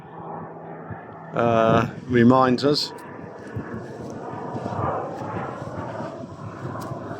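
A small aeroplane flies overhead on a countryside walking path along the Camino. Someone talks briefly over a low, steady engine drone that lingers distant and hazy after he stops, mixed with some wind.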